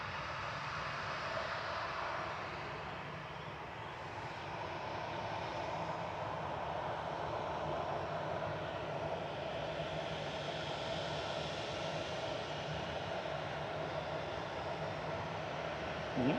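A Boeing 737-800 freighter turning on the ground at Manchester Airport gives a steady, fairly faint jet engine roar with broadband rush, holding level throughout without talk.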